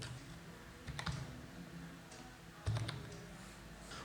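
Typing C++ class template code on a computer keyboard: two quick bursts of close key clicks separated by a quieter pause, no voice over them.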